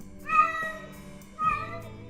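Two distinct cat meows from a sound effects pack, each a clear drawn-out tonal cry, the second slightly lower, close and isolated with no voices.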